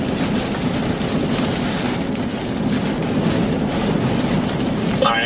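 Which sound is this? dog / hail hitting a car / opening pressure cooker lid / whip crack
hail hitting a car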